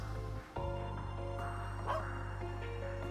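A guard dog barks in the video game Trails into Reverie, a few short yips over steady game music.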